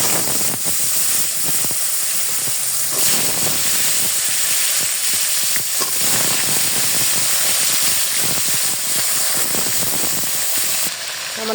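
Pangas fish fries in hot oil in a home kitchen, giving a steady, loud hiss and sizzle that runs without a break, with faint clinks and scrapes now and then.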